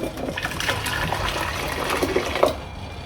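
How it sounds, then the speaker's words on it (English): Hot water poured into a container during gold refining, a steady liquid gush and trickle lasting about three seconds, close and moderately loud. "Put some hot water in there."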